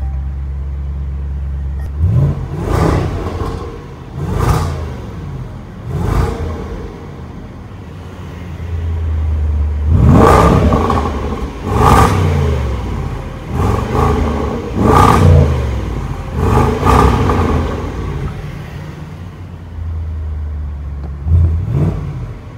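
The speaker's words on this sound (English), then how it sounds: "Dynamic mode automatically lowers the air suspension to the lowest possible height, so it can really hug the roads. And I've got the exhaust valves open." A 2019 Range Rover Sport SVR in Dynamic mode with its exhaust valves open, revving repeatedly in sharp, loud blips that rise and fall over an idling rumble, heard close by and alone.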